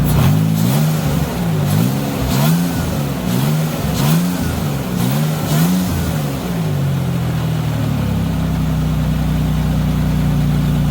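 Supercharged Nissan Xterra engine idling with the AC compressor loading it, a steady low rumble with a rhythmic lumpy pulse that hints at a slight misfire, close and continuous, then smoothing into an even drone.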